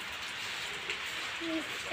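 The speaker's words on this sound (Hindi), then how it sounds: "ये बारिश जो है वो रुकने का नाम ही नहीं ले रहा है" Steady rain pours down in a village lane near a dairy farm, a dense, even hiss close by with no break across the short stretch.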